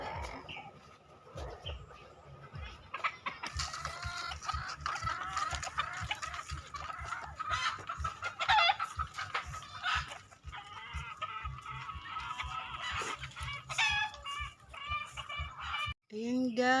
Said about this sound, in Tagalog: Yan o, daming manok.